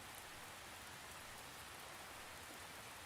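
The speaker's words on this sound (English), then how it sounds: "hearing the raindrop and knowing it's a raindrop" Rain falls steadily, a faint even patter of raindrops on surfaces that continues unchanged throughout, with no voices.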